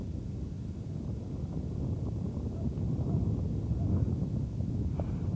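Wind blows across a wide open plain at the back of a UN military camp near the Danube, heard as a low, blustery rumble buffeting the microphone and rising slightly toward the end.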